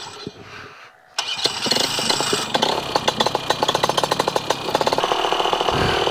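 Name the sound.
propeller aircraft engine starting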